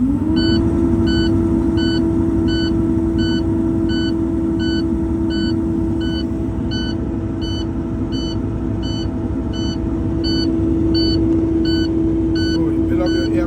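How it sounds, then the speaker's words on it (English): A truck's low air pressure warning alarm beeps steadily and regularly over a loud, constant engine idle inside the cab, continuing without pause throughout. "That's your low air pressure warning alarm."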